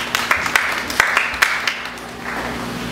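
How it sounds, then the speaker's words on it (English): A church congregation gives a brief clap of praise: scattered, fairly soft hand claps in an uneven rhythm over a low room hum, with a voice faintly present. "Let's give God a clap of praise."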